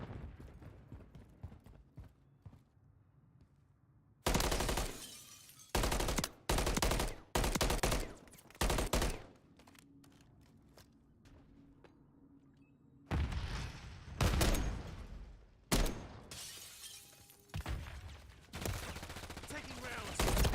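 Bursts of rapid automatic gunfire from a Call of Duty: Modern Warfare 3 firefight, loud and close, come in repeated broadband volleys separated by quieter stretches of ambient battle noise, with a brief voice in the background.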